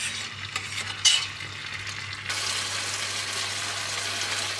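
Shakshuka sizzles in hot olive oil in a pan, a steady close frying hiss that jumps louder after a brief scrape and clatter partway through, with a low hum underneath.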